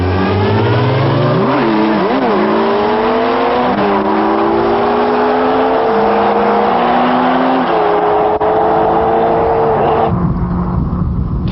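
A Kawasaki ZX-12R (1200 cc) and a Suzuki Hayabusa (1300 cc) race toward the camera at around 280 km/h on a top speed run, engines screaming loud and close, pitch climbing through gear changes before easing off.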